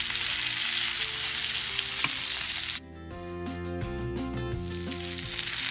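Cornmeal-coated fish pieces sizzle in hot oil right after being flipped, a steady loud crackle and spatter with a brief drop and then renewed frying, no voices.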